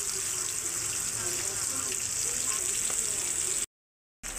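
Pieces of rohu fish fry in oil with a steady, close, hissing sizzle that runs evenly and then cuts off briefly near the end.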